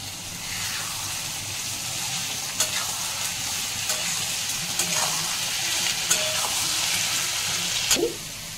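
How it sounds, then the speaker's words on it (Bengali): Onions fry with salt in a pan, giving a loud, even, constant sizzle with faint stirring clicks and a brief clatter near the end. "পেঁয়াজটা হালকা ভাজা হয়েছে, এবার আমি পেঁয়াজগুলো দিয়ে দেব। তারপরে দিয়ে দেব লবণ"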